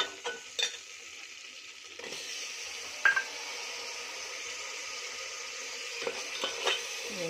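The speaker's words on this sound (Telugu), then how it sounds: "గ్రీన్ చిల్లీ, టమాటో వేసి చక్కగా ఫ్రై చేసేసుకుందాం" Green chillies and tomato frying in a pan while biryani is being made, a steady soft sizzle with a few sharp utensil clinks and stirring scrapes near the start and end.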